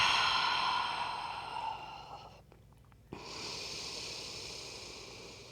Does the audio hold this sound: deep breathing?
yes